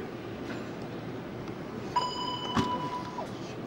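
Inside a moving train in Holland, a soft steady rumble of the carriage fills the background, with a brief clink and a short ringing chime partway through.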